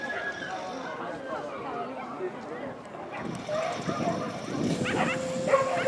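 Several racing dogs bark and yip excitedly at a distance at a Tampere race track, layered over a busy crowd and a loudspeaker voice talking throughout.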